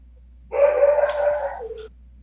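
A dog gives a single drawn-out howl mixed with barking, loud and close, rising and wavering for about a second and a half before tapering off, with no talk over it.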